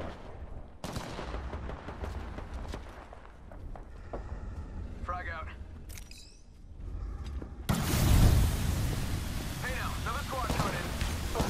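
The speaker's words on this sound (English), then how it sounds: "Taking fire! Firing." Gunfire in the video game Apex Legends during a ranked match, with bursts of shots and booms over game noise that swell into a loud, dense barrage near the end.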